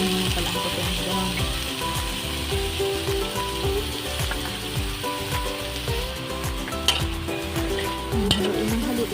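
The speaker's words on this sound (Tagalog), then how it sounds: "Yan, haluin na ng haluin." Steady sizzling and scraping as kangkong stems with black beans are stirred in a hot frying pan, a continuous frying hiss with rhythmic utensil strokes and a few louder knocks near the end.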